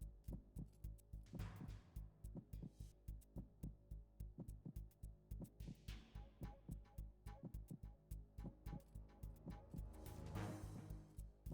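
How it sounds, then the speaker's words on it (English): A steady, muffled heartbeat in Metal Gear Solid 2 pulses in an even rhythm of soft low thumps. It plays quietly over a faint hum throughout. "I do like that the heartbeat actually vibrates the controller so I can hear the heartbeat."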